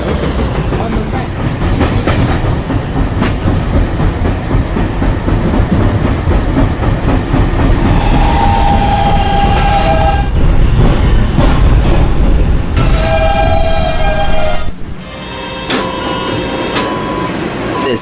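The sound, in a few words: subway D train at a station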